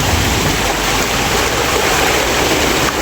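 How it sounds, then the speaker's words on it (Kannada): A vehicle pushes through deep water near Turtuk, India's last village, giving a loud, steady rush of splashing and churning water that runs unbroken throughout. "ನೋಡಿ ನೀರು, ನಮ್ಮ ಗಾಡಿ ನೀರಲ್ಲಿ ಆದರೆ ಯಾವ ಥರ ಹೋಗ್ತಾ ಇದೆ."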